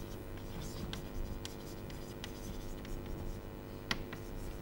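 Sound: writing equations during a lecture

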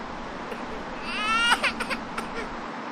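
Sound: baby crying inside a house

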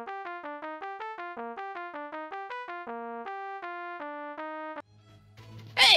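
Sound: Velato esolang program playing music for 99 Bottles of Beer

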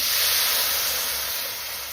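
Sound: buttermilk poured into hot tempering, sizzling

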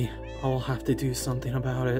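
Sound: cats meowing in Minecraft video game

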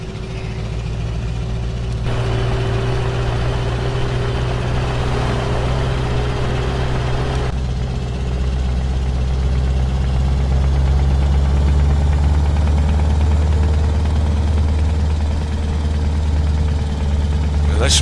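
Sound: truck engine idling in video game Euro Truck Simulator 2

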